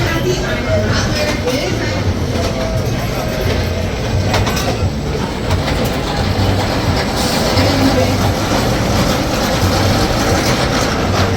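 Iron Rattler roller coaster train running along its track, a loud continuous rumble and rattle with rhythmic clacking throughout, close and unbroken, with voices partly mixed in.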